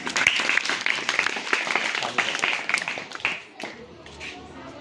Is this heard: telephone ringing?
no